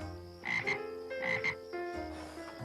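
A frog croaks loudly and close by in a few rough, throaty pulses with short gaps between them, heard alone without speech.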